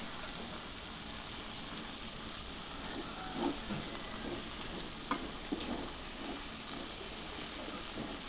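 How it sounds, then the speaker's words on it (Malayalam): Vegetables frying in a pan with chilli, turmeric and coriander powder, a steady hissing sizzle with a few faint stirring scrapes and one sharp tap partway through. "എന്നിട്ട് എല്ലാം കൂടി നന്നായിട്ട് ഒന്നും കൂടി ഇളക്കി ചേർക്കുക."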